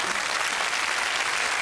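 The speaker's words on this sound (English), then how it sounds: "Round of applause for Claire's mum there." Studio audience applause on a UK Wheel of Fortune game show, a steady burst of clapping held at even loudness for under two seconds with no talk over it.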